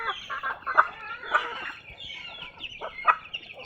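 Native chickens on a small poultry farm cluck and squawk in short irregular bursts, fairly close and moderately loud, with several birds calling over one another.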